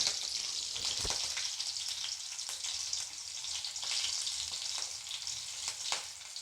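Cumin seeds and green chillies sizzle steadily in hot ghee, a continuous close crackling fry with small pops throughout, fairly quiet and with no voices.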